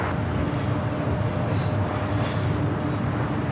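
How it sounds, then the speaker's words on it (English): An Emirates Airbus A380 taxiing at LAX, turning onto a taxiway toward the Tom Bradley terminal, gives off a low, steady engine rumble at moderate level, constant throughout with no voices. "Emirates A380 Super now making that final turn, heading into Tom Bradley, making that turn onto taxiway Kilo"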